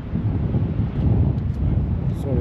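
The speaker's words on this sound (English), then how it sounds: "It's a bit windy." Wind buffets a microphone on the Blackpool seafront near North Pier, a steady loud rumble filling the whole moment with no break.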